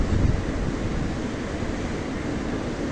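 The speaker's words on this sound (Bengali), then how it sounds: "দেখতে পারতেছেন আপনারা বাতাস আর বাতাস।" Strong wind roars and buffets steadily on an island in Bhola and Hatiya, Bangladesh, with a heavier gust at the start and a low rumbling rush throughout.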